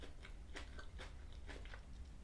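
Close, quiet biting and chewing of a Reese's Crispy Crunchy chocolate bar with peanut butter, producing a series of soft crunchy crackles in an irregular chewing rhythm, with no talking.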